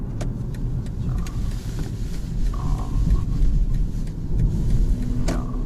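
A BMW 530e plug-in hybrid plays its iconic synthesized drive sound while moving, with faint tonal chimes over a steady low road rumble and tire noise at close range.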